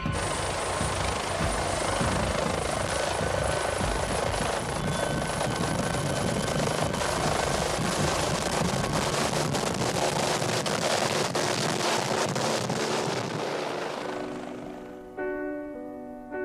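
A mountain rescue helicopter lifts off with a loud, continuous rotor thump and turbine whine close by, holding steady before the sound drops away near the end.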